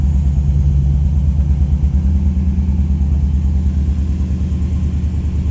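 A 1954 Oldsmobile Series 88 two-door sedan hot rod with a 324 Rocket V8 and single-barrel carburetor runs at a steady idle, a loud, close, deep rumble throbbing evenly throughout.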